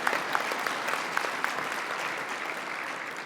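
Audience clapping at a union convention, a steady, fairly dense round of applause from a large room, heard on its own with no voices and even in level across the whole stretch.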